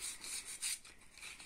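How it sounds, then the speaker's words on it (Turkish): Fine sandpaper, folded over, rubs back and forth on a metal door handle being prepared for painting, giving a quiet, steady, raspy scraping in repeated strokes. "Şuraları girerken zımparayı, ince zımpara zaten, şu şekilde katlayıp şu şekilde git gel yapabilirsiniz"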